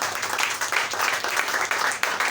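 A church congregation applauds during a French-language sermon, a dense, continuous patter of many hands clapping close by for a couple of seconds.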